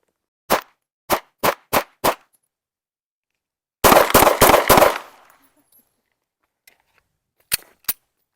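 An EDC Glock pistol fires at a shooting range while being zeroed. The crisp, close gunshots come as five spaced single shots, then a quick string of about five, then two more isolated shots separated by silence.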